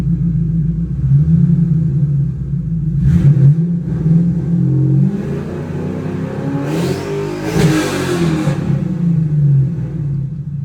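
A turbocharged 2005-2010 Ford Mustang GT 3V with an ON3 turbo kit accelerates hard, its loud, deep engine rumble rising and falling through repeated revving surges, with no talking.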